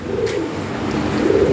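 An imported European Lahori pigeon, a male, coos softly and repeatedly at close range over a low background hum.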